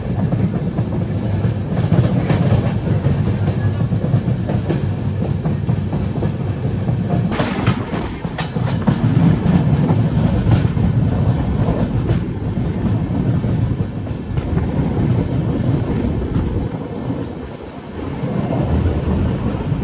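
A train running on rails from Mumbai to Pune through the Khandala ghat in the monsoon: a loud, steady, close rumble of wheels and carriages with rhythmic clatter throughout, and no talk.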